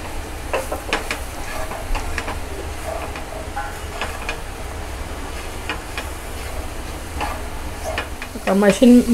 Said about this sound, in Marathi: आणि हे मशरूम घालते. हे आपल्याला चांगले व्यवस्थित परतून घ्यायचे आहेत.